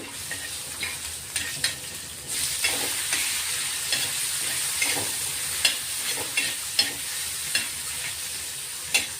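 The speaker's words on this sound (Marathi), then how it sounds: "तो तिखटपणा कमी होणार म्हणून आपण थोडा असं तळून घेणार आहे. टोमॅटो घेतलाय अर्धा, तोही आपण आता टाकून देऊ." Green chilies and half a tomato fry in hot oil in a pan, giving a steady, close sizzle throughout. Repeated light scraping and clinks from stirring come through in the later seconds.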